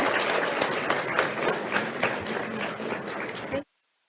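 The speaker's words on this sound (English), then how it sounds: "let's give a round of applause for our panel" An audience at a spring university honors celebration applauds a panel, a dense, steady wash of clapping that holds evenly for about three and a half seconds before cutting off abruptly into silence.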